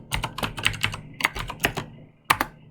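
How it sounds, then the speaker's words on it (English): Keys on a computer keyboard clatter in quick, uneven bursts of crisp clicks, close and clear, with brief pauses between groups of keystrokes. "so now I'm going to type factor"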